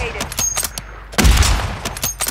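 Rapid gunfire in Call of Duty on the Urzikstan map, repeated sharp shots in quick bursts with a heavy, booming blast in the middle, loud and close.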